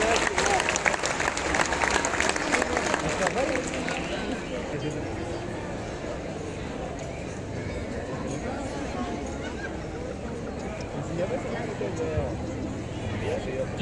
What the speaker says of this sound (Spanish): Que se escuchen los aplausos para esta delegación de San Lucas